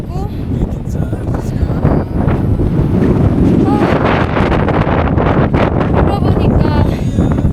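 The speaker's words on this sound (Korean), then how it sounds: "바람이 장난이 아니에요." Strong gusts buffet the microphone in the high alpine desert of Kilimanjaro, a loud, rough roar that surges and drops unevenly for several seconds.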